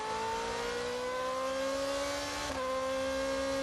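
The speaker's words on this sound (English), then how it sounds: "Riding on board with Nasser now." A GP2 race car engine screams at high revs from an onboard position during qualifying at Bahrain in 2014, a loud steady whine rising gradually in pitch with a brief dip at a gear change.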